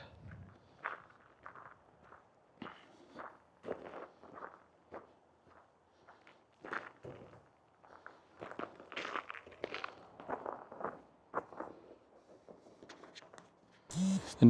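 Footsteps walking on icy ground outdoors, a steady series of crunching, scuffing steps close to the microphone, with quiet gaps between them and no talking.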